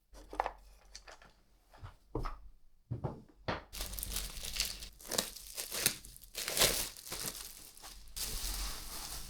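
A plastic package of colored pencils is unwrapped up close, with loud, irregular crinkling and rustling bursts and no talking.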